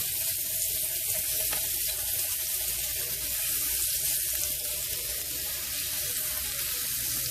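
A pat of butter melts in a hot pan with a steady, close, even sizzle that holds unbroken throughout.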